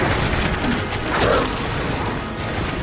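A musket volley in the samurai action game Nioh 2 crackles as a dense, noisy burst of massed gunfire with a rising swell around the middle, loud and continuous throughout.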